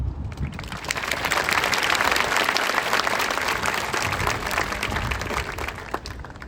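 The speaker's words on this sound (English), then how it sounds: "Let us first give a round of applause to all the staff, faculty, and families who have made this possible." Sustained applause from a graduation ceremony audience at a high school commencement, a dense, steady wash of many hands clapping close and loud for several seconds with no talk.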